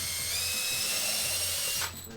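Power drill running steadily through old rivet holes in a carbon fiber skate boot, a continuous close whine with a faint ratcheting texture that cuts off near the end.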